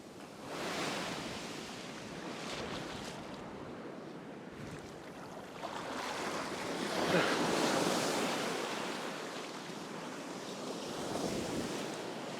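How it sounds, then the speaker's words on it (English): A southerly wind blows across open water while fishing, roaring steadily into the microphone. The wind swells and eases in broad gusts, with a surf-like wash underneath. "you might be able to hear the wind"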